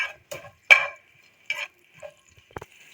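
Cumin seeds and green chilies fry in oil, giving short spitting bursts and crackles separated by near silence, with a few sharp clicks from a pan or spoon close by.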